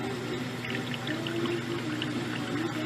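Water pours steadily into a Balloon Bonanza balloon filler, a continuous close trickling stream with faint bubbling, alone without speech.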